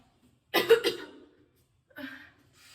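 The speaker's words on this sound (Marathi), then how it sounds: "मला खोकला लागलाय ग" A person coughs twice in a quick close burst, followed by a softer throat sound a moment later, set against near silence.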